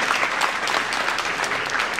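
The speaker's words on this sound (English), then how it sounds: "Round of applause for our special guest." A crowd at a community diversity and youth celebration in Queen Anne's County applauds steadily and fairly loudly throughout, a dense wash of clapping with no voices.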